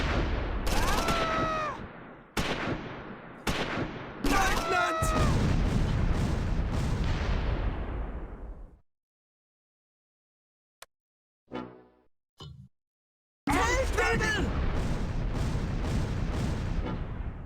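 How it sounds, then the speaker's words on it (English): An artillery barrage and gunfire in the World War II strategy game Close Combat 4 at Wiltz during the Battle of the Bulge: repeated loud blasts with whistling incoming shells and long decaying rumbles, then near silence broken by a few faint cracks before the shelling resumes. "German infantry are caught in a crossfire and under an artillery barrage."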